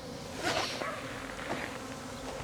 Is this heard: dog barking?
no